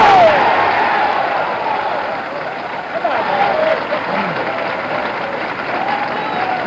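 A crowd at a bowling match bursts into loud applause and cheering after an 11th straight strike, sustained and fairly close, then gradually fading with some voices and scattered noise mixed in.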